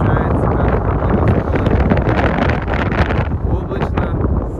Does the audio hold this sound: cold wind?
yes